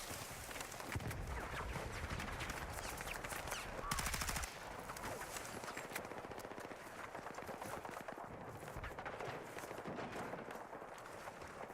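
GRT rifle gunfire in a first-person multiplayer shooter, rapid sustained automatic bursts filling the whole stretch, loud and close, with a denser punchy burst in the middle and battle noise around it.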